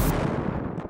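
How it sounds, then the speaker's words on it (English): A bomb going off in Stardew Valley, one loud sharp burst at the start followed by a rumbling, crackling decay that fades within a second; no talking over it. "Yes, I can use the bomb."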